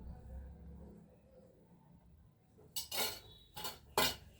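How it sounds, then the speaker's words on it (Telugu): Oil is rubbed onto a pan with soft, faint scraping, then three loud, close metallic rubbing strokes in quick succession. "ఈ ప్యాన్ తీసుకొని దీనికి కొంచెం నూనె రుద్దాలండి."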